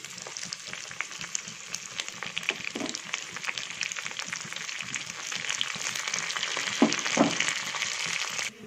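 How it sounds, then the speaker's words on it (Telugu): Spices and curry leaves frying in hot oil for a dal tempering, a steady close crackling sizzle that runs throughout with scattered sharper pops and spatters. "అన్నీ మనకు లైట్ బ్రౌన్ కలర్ వచ్చేంత వరకు మనం వేయించుకోవాలి"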